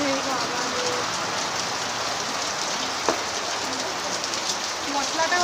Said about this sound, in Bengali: মশলাটা ভাবছি আর হচ্ছে না বৃষ্টির মধ্যে